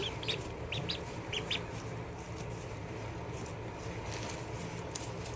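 Ducklings being moved into a brooder give a few faint, high, quick peeps early on over a steady rumbling background, then go quiet.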